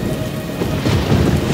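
Thunderstorm with steady heavy rain and rolling thunder, a dense continuous roar that swells slightly toward the end, loud and close with no voices.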